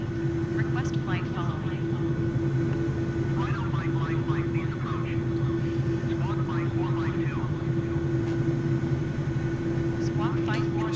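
A Cowan Simulation 222B helicopter in Microsoft Flight Simulator runs with a steady, droning turbine and rotor hum, constant and even throughout while someone talks over it.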